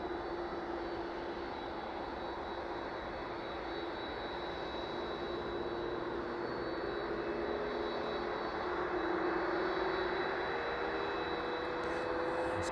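An aircraft arriving on runway 27 at East Midlands Airport, a steady faint jet drone with a constant whine and no talk.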